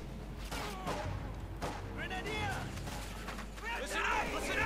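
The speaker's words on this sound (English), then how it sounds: "There you go, MG-42 opening up." An MG-42 machine gun fires in the WWII strategy game Company of Heroes 2, heard as rattling bursts mixed with other gunfire and battle noise over a busy backdrop, with talk present.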